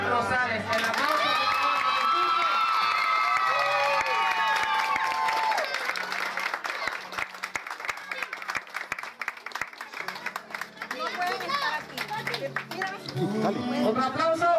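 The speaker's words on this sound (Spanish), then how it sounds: "le demos un fuerte aplauso a la niña que hoy cumple 15 años, María Luisa Manzanares y su chamelán Iván R" Guests at a quinceañera in Miami break into sustained applause and cheering, a dense crowd roar filling the room from start to finish, with scattered voices and chatter mixed through the clapping.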